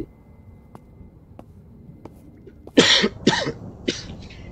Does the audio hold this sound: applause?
no